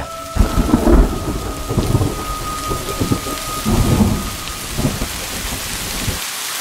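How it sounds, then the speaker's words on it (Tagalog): Heavy rain pours steadily throughout while deep thunder rumbles roll in several times, loud and close, with no voices. "Habang nasa kasagsagan sila ng paglalakad sa ilalim ng malakas na buhos ng ulan."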